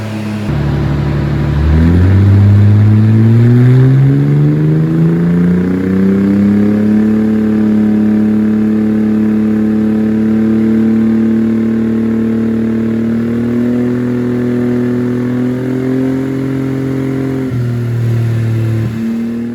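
A Mercedes W203 car engine revs steadily up under load on a dyno and holds a high, droning pitch for a long stretch before dropping off, loud and close.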